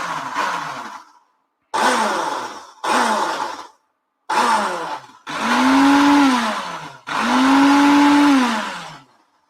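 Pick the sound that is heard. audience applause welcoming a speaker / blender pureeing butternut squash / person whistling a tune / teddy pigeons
blender pureeing butternut squash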